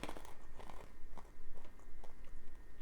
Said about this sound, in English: I like the crunchy pea snack.